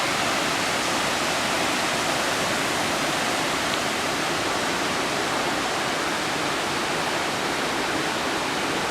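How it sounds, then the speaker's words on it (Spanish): A waterfall cascade at Aconco, Puebla, pours in a loud, steady, unbroken rush of water that fills the whole stretch with no voices. "Y aquí llegando a la segunda cascada."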